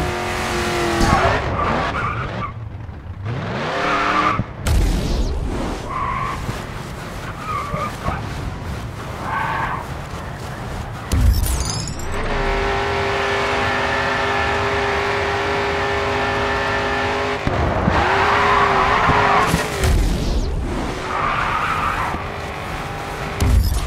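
Race car in the Grid 2 video game braking hard and skidding, with loud engine roar, downshifts and long tire squeals that rise and fall through the clip, with no talk.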